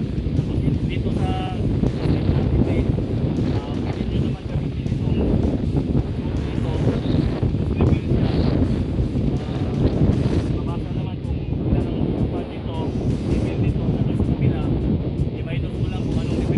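Strong wind of about 16 knots roars steadily across the microphone aboard a ship, with the wash of 1.5-metre swells, constant and loud throughout.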